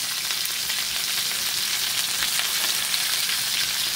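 Chicken searing in a Lodge cast iron pan gives a steady, close, even sizzle that holds at one level throughout, with no talking.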